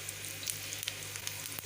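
Cumin seeds fry in hot oil in a pan, giving a steady close crackling sizzle with small pops scattered throughout, no voices.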